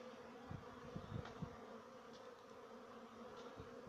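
Honeybees buzzing around their hives on the first spring cleansing flight, a steady low drone with several louder passes from single bees flying close, all fairly faint.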